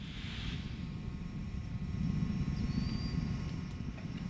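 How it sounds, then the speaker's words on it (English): Space Shuttle Discovery's three main engines throttling back up during the STS-133 launch, heard as a steady, muffled, distant roar that never lets up. "Discovery's three main engines throttle back up."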